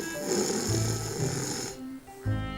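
A voice imitates a wolf snoring loudly, with long rasping inhales repeated, close and prominent, in a storytelling style.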